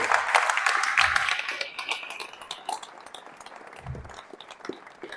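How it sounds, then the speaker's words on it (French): Townspeople at a Saint-Palais-sur-Mer municipal gathering applaud themselves, a dense burst of clapping that is loudest at first and gradually thins and fades over roughly five seconds. "je pense que l'on peut tous s'applaudir pour être une commune qui tient autant à son avis"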